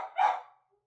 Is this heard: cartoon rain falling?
no